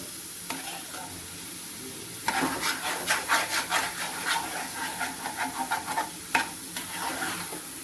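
A spoon stirs egg masala with carrot and tomato in a hot pan, producing repeated scraping and clacking strokes over a soft background sizzle, the rhythm picking up into quick, regular stirs partway through.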